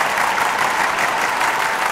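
Applause from a theatre audience at a Gai Jatra comedy show, a dense, steady clatter of many hands clapping that runs unbroken and fairly loud for a couple of seconds.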